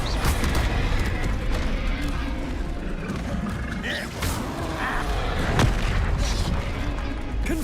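A Confringo blasting spell detonating in Hogwarts Legacy during a fight, a loud rumbling burst with a sharp crack near the end, buried in continuous dense battle noise.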